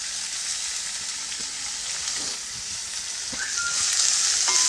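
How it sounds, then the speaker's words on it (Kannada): Long-sliced large onions frying in a pan give a steady close sizzle with faint stirring taps, and the hiss swells louder toward the end as more onion hits the oil. "ನಾಲ್ಕರಿಂದ ಐದು ದೊಡ್ಡ ಸೈಜ್ ಈರುಳ್ಳಿನ ಉದ್ದುದ್ದವಾಗಿ ಕಟ್ ಮಾಡಿಬಿಟ್ಟು ಹಾಕ್ಕೊಳ್ತಾ ಇದ್ದೀನಿ"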